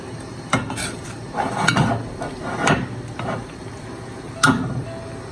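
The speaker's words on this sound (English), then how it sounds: "So what I need to do is to stir it" A spoon stirs a thick mixture in a cooking pot while an African dish is being made, giving soft scraping with a few sharp clinks against the pot's side, close and fairly quiet, with no talking.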